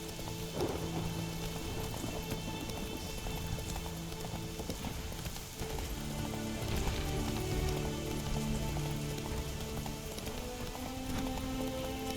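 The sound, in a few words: rain falling in video game The Witcher 3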